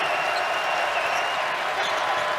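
Iowa State basketball arena crowd cheering and applauding in a game against Baylor, a dense continuous roar filling the space at steady volume, with commentary faintly under it.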